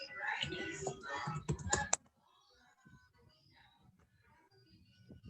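Heavy, fast computer keyboard typing picked up over an online class call, a rapid dense burst for about two seconds, then only faint scattered clicks and low murmuring.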